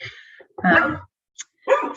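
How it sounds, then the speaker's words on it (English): A pet dog lets out a few short, sharp barks up close, with brief pauses between the separate loud bursts. "my dog is not happy that Saturday I'm working."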